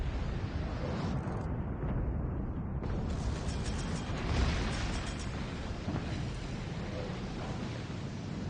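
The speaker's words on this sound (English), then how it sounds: "Here comes the torpedoes." Torpedoes strike a warship in World of Warships Legends, a dense, sustained rumble of explosions and roaring blast noise with low booms swelling around the middle and fading slowly.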